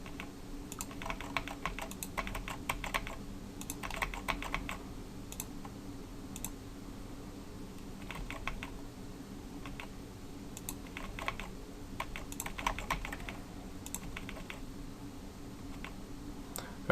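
Computer keyboard keys tapped while indenting code, with short bursts of quiet clicks separated by pauses over a low steady room hum.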